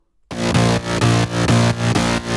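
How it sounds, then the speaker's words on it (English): Full layered mid bass synth from an EDM drop, a thick, slightly saw-like tone pulsing in a steady rhythm with punchy hits, loud and alone after a brief silence at the start. "And the full mid bass sounds like this now."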